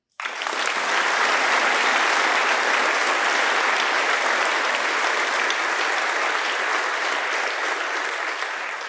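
An audience breaks into loud, sustained applause to welcome the panel of speakers at an engineering and AI talk, the clapping starting abruptly and holding steady for about nine seconds with no voices.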